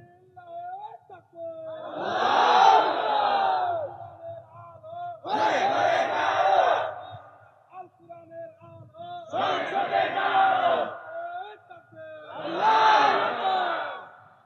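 A large crowd at an Islamic sermon by Mufti Elisaur Rahman Zihadi roars a takbir chant in four loud, regular surges, each answering a short lead call, with quiet gaps between.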